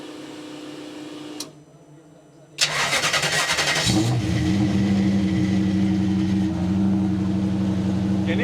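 A Toyota GT86 fitted with a rear-turbo 1UZ V8 cranks briefly after a click, catches loudly and settles into a smooth, steady idle, close by with no talk over it.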